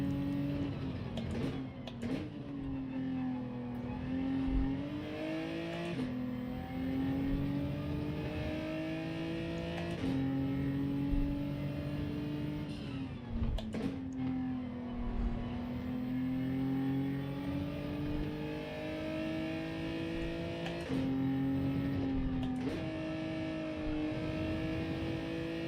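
A Gran Turismo race car held in third gear, its engine revving up and down again and again in a steady whining drone, with brief dips at each lift-off, loud and close.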